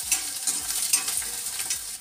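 Onion fries in a pan as a bright, close sizzle, with rhythmic stirring scrapes roughly every half second.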